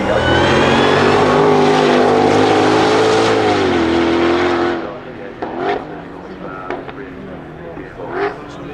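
A Ford Mustang GTD supercar accelerating hard, its loud engine note rising and holding for several seconds before fading into the distance, with people talking in the quieter stretch afterward.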